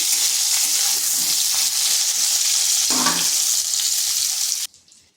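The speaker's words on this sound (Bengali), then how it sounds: "পটলটাকে হালকা একটু ভেজে নেব, আর এদিকে পটলটা ভাজা হতে থাক" Pointed gourd (potol), seasoned with salt and turmeric, fries lightly in hot oil in a pan, giving a loud, continuous sizzle with a brief stir midway before the sound cuts off sharply near the end.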